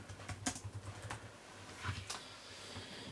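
Quiet keystrokes tap out now and then on the smooth keyboard of a Lenovo ThinkPad L490 laptop. There is no talk.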